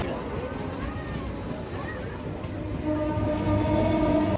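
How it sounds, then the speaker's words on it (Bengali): A train rumbles steadily close by, with a thin metallic squeal or horn tone running over the noise and the sound swelling louder toward the end, while a voice talks in the background. "11টার সাথে ট্রেনটা ধরবো"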